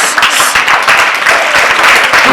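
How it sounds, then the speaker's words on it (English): An audience at a formal event with a royal guest, standing and applauding: dense, loud, continuous clapping from a crowd, with faint voices mixed in. "I want everybody to be on their feet and start clapping already"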